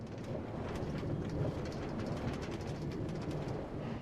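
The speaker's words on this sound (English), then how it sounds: "This is what a Minecraft rail sounds like." A Minecraft-style rail effect plays in the video game Steal A Brainrot: a steady, moderately loud rolling rumble with faint clattering ticks, continuous for about four seconds with no talking.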